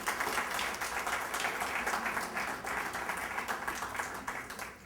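Applause rises from a mushaira audience as poet Dr. Sarwat Zehra is welcomed to the stage, a dense, steady wash of many hands clapping that holds for several seconds before easing off.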